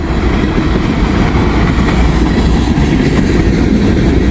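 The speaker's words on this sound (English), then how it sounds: "Short train and going right on through to Detroit, Michigan." A short freight train bound for Detroit, Michigan, rumbles steadily past at close range on an autumn afternoon, its wheels clacking on the rails in a loud, unbroken roar throughout.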